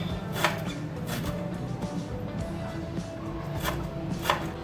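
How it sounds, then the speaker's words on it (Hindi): A knife cuts and slices washed coriander on a board, making a few soft, sharp chops over a steady low background hum. "अब इसको हम यहाँ से कट कर देंगे और उसके बाद हम इसको स्लाइस में काट देंगे"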